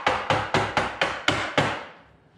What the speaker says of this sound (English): Just my rubber hammer.